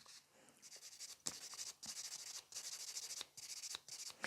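A nail buffer rubs over a fingernail, making close, fine scratchy strokes in short rapid bursts separated by brief pauses and light taps, with no talking.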